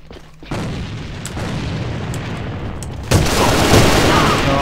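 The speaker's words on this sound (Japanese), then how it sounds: "手榴弾投擲。" A grenade thrown and exploding in the online shooter AVA, a loud booming blast over ongoing battle noise, followed by a second, heavier burst of rumbling explosion.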